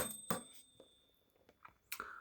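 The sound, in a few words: bell of an Erika S typewriter ringing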